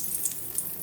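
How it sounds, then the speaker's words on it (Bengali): Bay leaf and cardamom sizzling in hot oil in a pan, a soft even crackle, faint and very brief, with no voices. "তেল গরম করে তেজপাতা এলাচ দিয়ে দিলাম"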